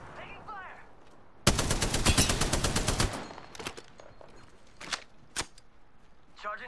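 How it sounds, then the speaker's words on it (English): Video game gunfire hits the player, a loud rapid automatic burst of about a dozen shots, followed by a few scattered single sharp cracks over quieter game sounds. "I am taking fire."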